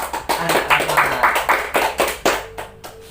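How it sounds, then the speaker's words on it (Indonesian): Children in a classroom break into applause, a quick run of about ten sharp, even claps at a brisk rhythm, close and fairly loud, ending abruptly. "Tepuk tangan dulu untuk anak-anak."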